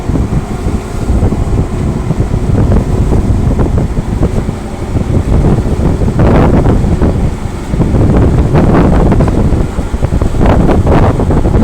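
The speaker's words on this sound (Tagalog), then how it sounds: "maalon ngayon, maalon" Rough sea waves and strong wind on a moving ship near Limasawa, with heavy wind buffeting and water rushing and splashing against the hull continuously, loud and close, surging in bursts.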